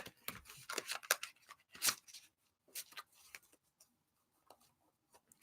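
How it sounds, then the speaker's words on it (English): A deck of playing cards is shuffled and riffled by hand, quiet crisp flutters and taps in irregular bursts with short pauses, sounding close and soft with no talk. "Let me go ahead and shuffle this 2 more times."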